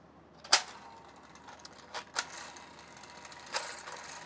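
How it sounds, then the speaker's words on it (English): Fisher-Price The Farmer Says See 'N Say toy being wound as its ring gear charges the internal flywheel: faint quiet clicks and ratcheting ticks, with a sharp snap near the start and a few softer clicks later. "the flywheel is charged by this gear reduction, and there's a return spring"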